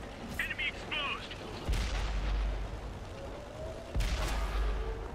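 Tank cannon fire in World of Tanks on Xbox 360, with heavy tanks trading shots: two loud, booming blasts about two seconds apart over a dense battle rumble, with brief synthetic beeps early on.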